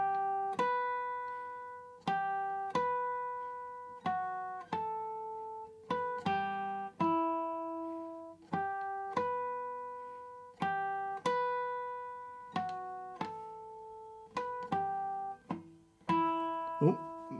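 Clean guitar in standard tuning with no capo picks the ending-credits melody from The Last Of Us Part 2, a slow series of single plucked notes and chords, each ringing and decaying, close and fairly quiet with no voices.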